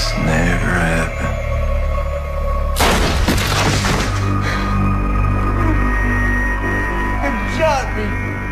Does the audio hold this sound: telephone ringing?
no